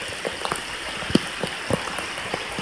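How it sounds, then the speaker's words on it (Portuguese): Steady rain falls during a fishing trip, a constant hiss dotted with distinct drops striking nearby surfaces at irregular intervals, with no voices. "Chuva na pescaria."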